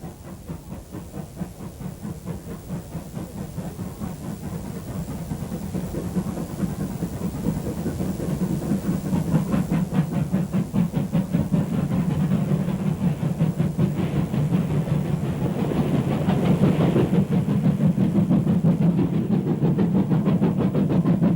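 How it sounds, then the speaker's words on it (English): A New Zealand steam train climbs the Reefton saddle with a banking engine pushing at the rear, giving a steady, rapid chuffing exhaust and hiss that builds gradually in loudness, with no voices. "The Reefton saddle, infamous for the requirement of a banking engine on the rear of the train."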